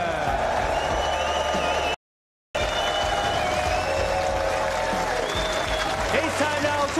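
A snooker crowd at the Tour Championship in Manchester claps steadily before the first-round session, with sustained applause and a few cheers, briefly cut by a moment of silence.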